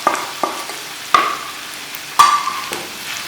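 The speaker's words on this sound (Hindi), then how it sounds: "तो अच्छी तरह इसके अंदर मिक्स करेंगे।" Spoon stirs turmeric, chilli, cumin, salt and dried fenugreek into potatoes frying in a pan for aloo bhujia, with scraping strokes and soft sizzling, close and alone.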